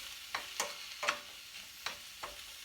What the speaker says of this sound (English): While we are waiting for our mushrooms to saute